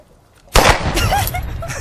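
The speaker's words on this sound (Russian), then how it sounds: "Беру ружье, целюсь и стреляю." A rifle shot in a film scene: a single sharp, loud blast cracks out after a brief quiet moment and rings on with a long echoing decay.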